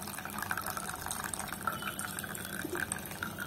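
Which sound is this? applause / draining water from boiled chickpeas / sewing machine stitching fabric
draining water from boiled chickpeas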